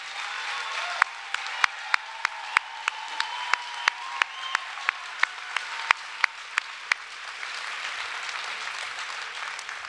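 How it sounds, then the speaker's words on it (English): An audience applauds senior leaders of partner institutions at a Say Yes to Education Cleveland event, a room-filling wash of clapping with a few sharp, close claps standing out before it tapers off. "please join me in a round of applause thanking them"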